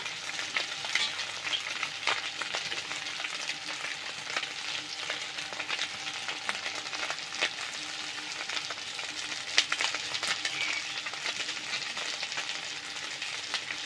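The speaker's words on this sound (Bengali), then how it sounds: "খুন্তি দিয়ে মাথাটা ভেঙে দিয়েছি, এখন ভালোভাবে ভেজে নেব।" A bhetki fish head, broken up with a spatula, fries in mustard oil: a steady close sizzle with occasional scraping stir sounds and no talking.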